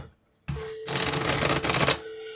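A deck of tarot cards is shuffled up close, a quick rattling, riffling flutter lasting about a second and a half after a brief silence.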